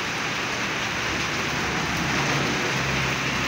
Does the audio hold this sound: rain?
yes